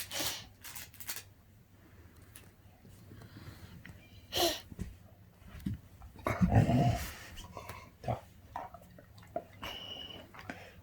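A dog nearby snuffling, licking and slobbering with a few soft whimpers and sneeze-like bursts, intermittent and close in a quiet room.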